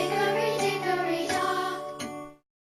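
A premium clock chime set to the hickory dickory dock nursery tune on a smart speaker, playing a bright tinkling melody of several struck notes over about two seconds, loud and close, then ringing off into silence.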